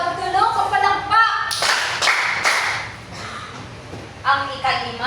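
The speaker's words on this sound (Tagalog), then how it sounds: "Tagaan nato si Angela og tulo ka palakpak." A class of students gives three quick, sharp claps together for a classmate, a brief cluster of loud slaps between stretches of a teacher talking.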